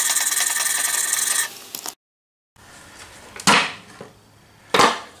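An axe or hatchet edge is worked against abrasive grit, giving dry rasping strokes close up: a long steady scrape, a short gap, then separate sharp gritty swipes.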